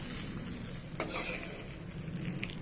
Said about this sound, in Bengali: এবার এই ফোড়নটাকে কিছু ভালো করে দোলে দেবো